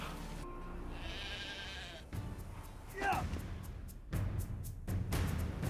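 Sheep and goats bleat in a fantasy game scene set up for a ritual sacrifice, a wavering bleat rising briefly among overlapping voices and crowd murmur, with livestock calls mixed under the talk.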